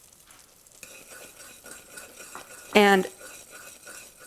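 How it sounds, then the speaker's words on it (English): Caramel popcorn syrup in a pot being stirred after vanilla is added, soft bubbling and scraping under a spoken voice, with one short bright metallic clink of a utensil against the pot. "I add a half a teaspoon of vanilla and stir it up really good"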